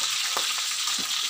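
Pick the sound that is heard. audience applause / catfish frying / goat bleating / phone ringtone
catfish frying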